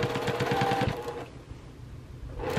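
Sewing machine stitching binding onto a quilt, a rapid steady whir of needle strokes for about a second, then a quieter pause before the motor starts up again near the end.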